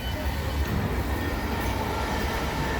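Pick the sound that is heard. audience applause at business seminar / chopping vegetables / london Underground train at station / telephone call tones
london Underground train at station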